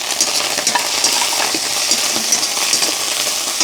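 Garlic, ginger and chopped celery fry in a pan for chilli gobi, a steady bright crackling sizzle with light clinks of a spoon stirring, close and continuous, no voices.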